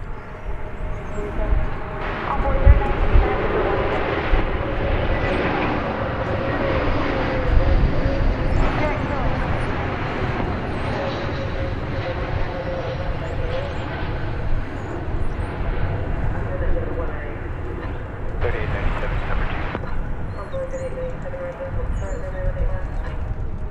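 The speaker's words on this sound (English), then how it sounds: "It's an Airbus A321." American Airlines Airbus A321 landing at DFW Airport, a continuous broad jet roar that holds steady for the whole stretch with a slight swell partway through, heard from a distance.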